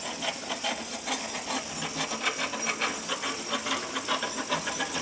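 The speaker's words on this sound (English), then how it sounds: "I just hope this filament sticks, go through safe and well, Lord Jesus." A CraftBot 3D printer working on a spur gear produces a steady, close whirring hiss, with rapid rhythmic stepper-motor buzzing pulses repeating throughout.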